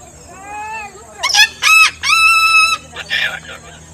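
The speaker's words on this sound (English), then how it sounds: "this small stop right next to the doors, right here, was home to two Sulphur-Crested Cockatoos, which me and my friend Tyler" Two sulphur-crested cockatoos at a zoo stop call in loud, harsh, close screeches, several raucous bursts after a quieter opening note.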